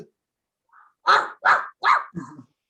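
A dog-bark sound effect plays during a dramatic reading of the Momotaro folktale: four sharp, close barks in quick succession, alone without talk.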